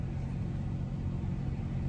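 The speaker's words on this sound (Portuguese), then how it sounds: "Eu liguei o motor um pouquinho pra comer" A van's engine idling in the summer heat in Las Vegas, heard from inside as a steady, even low hum and rumble with no change in pitch and no voices.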